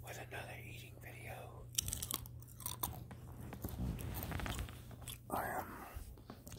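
Popcorn eaten close to the microphone as a late-night ASMR snack, with steady crunchy chewing and biting throughout, some soft crinkling, and a low constant hum underneath.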